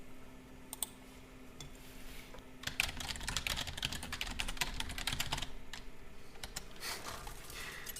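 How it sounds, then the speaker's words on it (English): Computer keyboard typing, steady close-up key clicks that build into a dense, fast burst in the middle and then thin out, with no talking. "What I like is Redbeard, you know, typing away"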